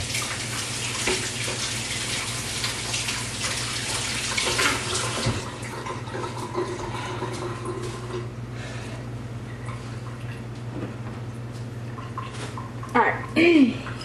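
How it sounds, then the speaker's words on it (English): Tap water runs steadily from a faucet while hands are washed, a broad hiss that holds for the first few seconds and then settles lower, with a brief clatter near the end. "Let me wash my hand."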